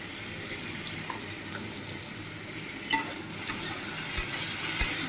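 Fresh greens (shak) being stirred in a pan with salt and turmeric, giving soft scraping and faint sizzling with a few sharper clinks of the spoon against the pan, alone and close.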